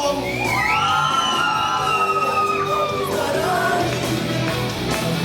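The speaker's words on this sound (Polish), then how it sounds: "I uwaga, wszystkie panie piszczą" Women squeal and cheer at a dance party, high gliding shrieks and whoops rising over steady crowd noise and background music with no pause in the loud festive din.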